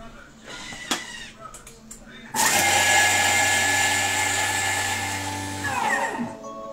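A Thermomix food processor starts with a sudden loud whir and blends at speed 8 for about three seconds before spinning down, after some quiet rustling.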